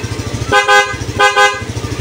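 A Yamaha Mio Sporty scooter horn honks twice, two short bright beeps over the steady putter of its nearby idling engine.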